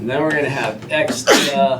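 Someone sneezes once, sharp and sudden, in a university calculus lecture, cutting across the lecturer's ongoing speech.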